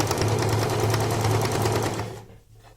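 A sewing machine stitches fabric for a menstrual underwear pad, running in a steady close hum with a fast needle rhythm for about two seconds, then stopping abruptly.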